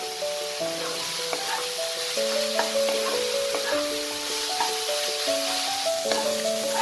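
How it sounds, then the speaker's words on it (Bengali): Chicken chop filling, salted and cooking down slowly in a pan over a low flame, gives a steady soft sizzle under continuous melodic music. "এবার এটাকে 5 থেকে 10 মিনিট আমি স্লো ফ্লেমে ভালো করে এটাকে কষাবো।"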